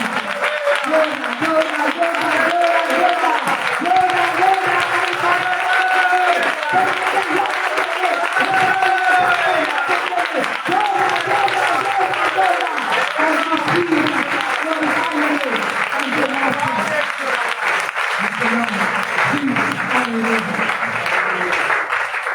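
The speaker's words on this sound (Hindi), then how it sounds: "जोरदार ताली बजाएं" A church congregation claps loudly together in a dense, sustained wave of applause lasting over twenty seconds, with a voice speaking over the clapping.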